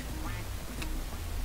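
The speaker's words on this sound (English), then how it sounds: "I'm kind of getting some annoying quack" Duck quacking in the video game Finn and Jake's Epic Quest, a faint, brief quack rising over steady game music and background noise.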